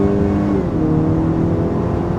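A 2018-2021 Honda Accord fitted with a PRL high-volume intake pulls hard under acceleration, its engine droning loud and steady from up close, with the pitch easing slightly upward and no voices.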